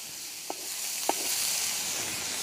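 Steak sizzles steadily on a Tembo Tusk Skottle outdoors in winter, a constant close hiss broken by two light spatula taps.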